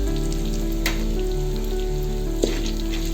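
Gram frying with turmeric powder in moderately heated oil, giving a steady, close sizzle with a faint hum beneath and a couple of brief clicks, no voices.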